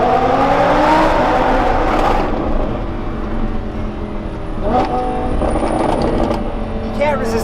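A Lamborghini Huracan with an aftermarket carbon wing revs and drones from inside the cabin, its engine note falling after a loud opening burst and rising again under people talking.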